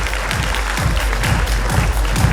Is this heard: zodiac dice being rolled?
no